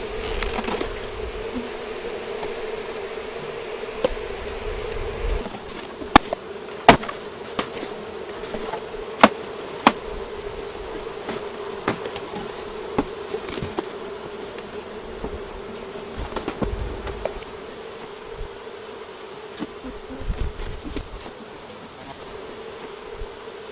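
Honeybees buzzing steadily around an open hive and sugar-syrup feeder, a close, continuous drone punctuated by sharp knocks and clicks of hive equipment being handled.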